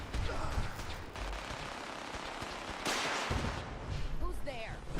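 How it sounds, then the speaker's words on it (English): Gunfire in the video game Fallout 4, dense bursts of shots and explosive impacts rattling continuously through the scene, loud and busy, with occasional voices cutting in among the firing. "Taking fire!"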